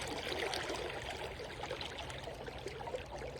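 River water flowing and trickling around someone wading at sunset on a summer evening, a soft, steady wash of water with faint splashes, no talk.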